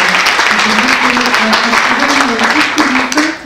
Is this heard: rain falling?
no